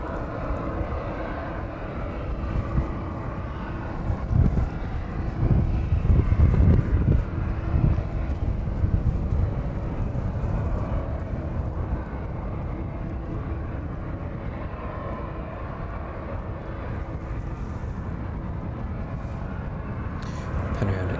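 A Ryanair jet airliner at East Midlands Airport gives a steady, broad engine roar throughout, swelling briefly in the middle, with wind buffeting the microphone.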